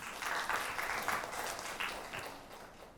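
Classmates applaud a student in a university English class, a steady burst of clapping that fills the room and then slowly fades.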